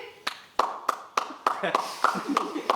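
An improv festival audience claps in single sharp beats, about nine evenly spaced, distinct hits, with speech underneath between them.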